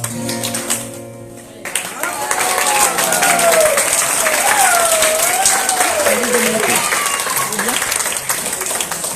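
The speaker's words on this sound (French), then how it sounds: "de vous entendre applaudir comme ça, taper dans les mains" An audience at an autism-themed show bursts into loud, sustained applause after a brief quieter moment, with voices calling and cheering over the clapping.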